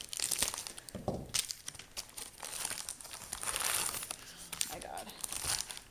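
A paper envelope being cut open, with crisp crinkling and tearing paper sounds close to the microphone, steady handling noise throughout while a person talks over it.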